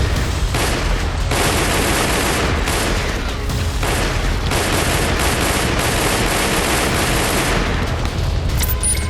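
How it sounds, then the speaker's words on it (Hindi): Sustained gunfire and blasts at the Chaman border crossing between Pakistan and Afghanistan, dense rattling bursts with heavy booms layered throughout, loud and continuous with no speech. "दोनों तरफ से गोलियां और बम बरसना शुरू हो गए हैं"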